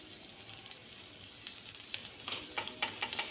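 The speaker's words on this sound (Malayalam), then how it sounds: "എന്നിട്ട് നമുക്ക് സവാള അതിലേക്ക് ഇടാം." Chopped onion hits hot oil in a pan for a chicken curry, giving a steady close sizzle that grows busier toward the end with small crackling bursts.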